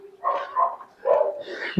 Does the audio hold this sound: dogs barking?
yes